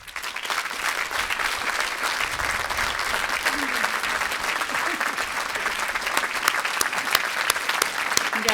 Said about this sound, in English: Can I have another big round of applause for all of our retiring faculty?